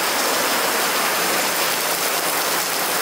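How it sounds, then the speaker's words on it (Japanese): Torrential rain pours down without pause, a dense, loud, steady roar of water with no voices. "前回の Vlog よりも 今日の雨はすごく大雨なんで"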